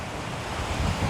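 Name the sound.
waves on a beach in Phuket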